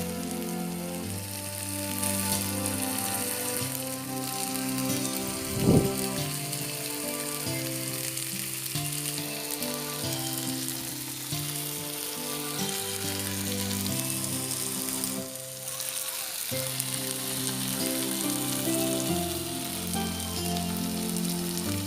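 Tandoori chicken fries in a pan over a flame, giving a steady, rain-like sizzle and crackle throughout, with one sharp clunk partway through.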